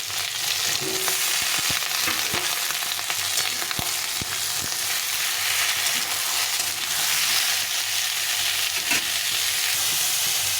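Potato and vegetables frying in a pan with a constant, even sizzle and occasional soft stirring clinks, close up and steady throughout.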